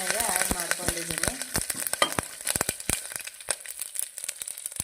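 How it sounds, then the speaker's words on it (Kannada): Curry leaves, a single dried red chilli and one clove of garlic crackle and sizzle in hot tempering oil, with sharp popping spits over a steady frying hiss that gradually settles, close and fairly loud. "ನಾನೀಗ ಕರಿಬೇವು ಸೊಪ್ಪು, ಒಂದೇ ಒಂದು ಒಣಮೆಣಸಿನ್ಕಾಯಿ ಮತ್ತು ಒಂದೇ ಒಂದು ಇಳುಕು ಬೆಳ್ಳುಳ್ಳಿ ಒಗ್ಗರಣೆಗೆ ಆ್ಯಡ್ ಮಾಡ್ಕೊಂಡಿದ್ದೀನಿ"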